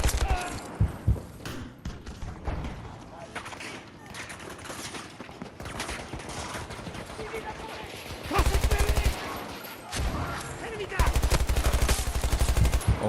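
Rapid video game gunfire in bursts, dense automatic fire at close range building into heavy sustained volleys toward the end, with a voice talking over parts of it.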